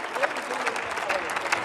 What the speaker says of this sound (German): weil ich schon geahnt habe, dass dann die CDU klatscht